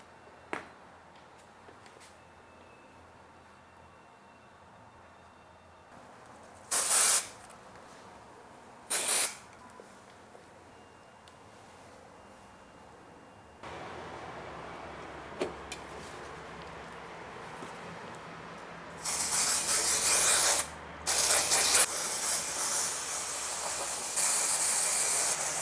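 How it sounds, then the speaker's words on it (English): Spray adhesive hisses from a can onto the sides of foam cushion padding in short bursts, then in longer sustained sprays, loud and close with no talking. "To glue Sintepon, I'm just gonna use spray adhesive, spray on the sides of the foam and put it on top."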